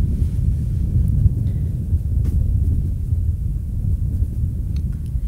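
Steady wind buffets the microphone on an open disc golf course, a continuous low rumbling roar that holds throughout without pause.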